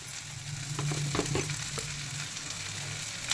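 Rice fries in oil in a pan for lemon rice, a soft continuous sizzle with a few scraping stirs of a spoon against the pan, heard close and fairly quiet.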